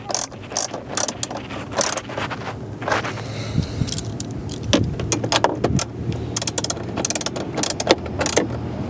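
Ratchet tightening 10mm bolts while installing a car stereo kit in a 2015-2017 Toyota Sienna, close rapid clicking bursts with metallic scraping and jangling of tools, repeated in short runs throughout with no talk.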